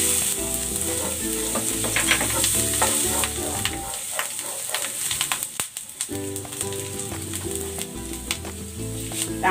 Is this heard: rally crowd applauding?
no